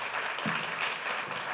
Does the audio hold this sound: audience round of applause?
yes